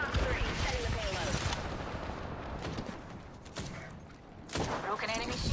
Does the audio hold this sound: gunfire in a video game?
yes